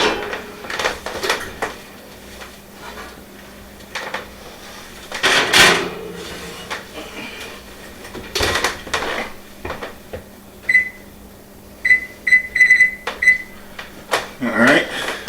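Baked beans in a dish go into a kitchen stove's oven: scattered clicks, clunks and knocks of the door and dish, then a short run of high electronic beeps near the end, with a person talking at times.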